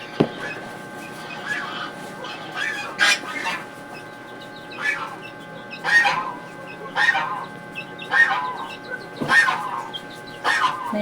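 Chickens on a farm cluck around their egg-laying coop, muddy after recent rain. Repeated close, loud clucking calls come every second or so over a steady murmur of the flock.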